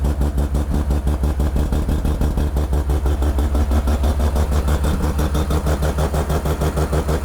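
Mazda R100 with a 13B rotary engine idling close by, a loud, steady, choppy pulsing rumble with rapid rhythmic clatter that holds constant throughout.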